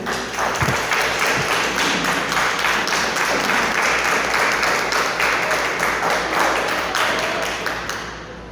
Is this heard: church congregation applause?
yes